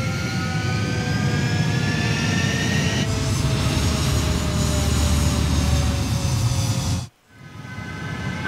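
Jet fighter from the game Ace Combat 7 taking off, a loud steady engine roar with rising whine that continues for about seven seconds, then cuts to a brief near-silence before the rumble resumes.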